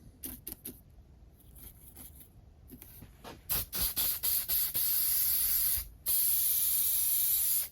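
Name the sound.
fixative spray being sprayed on model railway trackside cabinet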